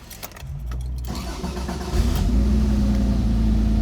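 The engine of a 1972 Porsche 911 ST cranks and catches, then settles into a loud, steady idle close by with no talking.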